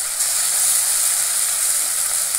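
Steady, close sizzle of tomato paste and dried red chili paste frying in a hot pan for a fish and potato curry, a dense continuous hiss with no talking.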